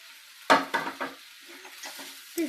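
Rice is stirred in a frying pan for Rayalaseema-style spicy erakaram rice: a few scraping, clattering strokes against the pan over a soft background, close and fairly quiet.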